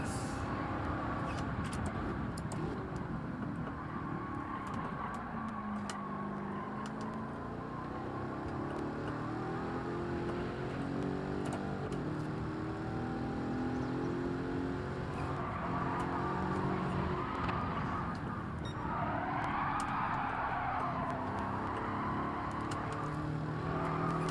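Gran Turismo 7 race car engine during a lap time challenge, a loud continuous roar whose pitch climbs and drops as revs rise through the range and gears shift, sustained throughout.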